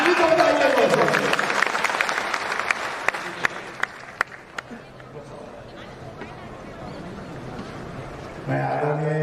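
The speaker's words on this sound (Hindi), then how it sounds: "एक बार जोरदार ताली सबके लिए होना चाहिए।" A crowd at a political workshop in a Patna auditorium applauds loudly, then the clapping thins to scattered sharp single claps and fades out before voices return.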